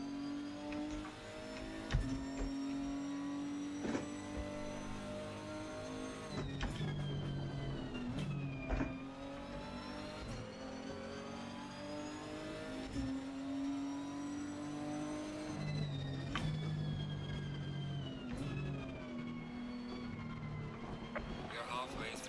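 A Lamborghini race car engine in Assetto Corsa Competizione revving and shifting through gears on track, with a rising and falling tonal whine and sharp changes at each shift, continuous and fairly close.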